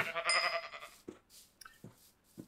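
A Minecraft sheep bleats once clearly at the start, a faint, close wavering call, followed by a few soft thuds in the game.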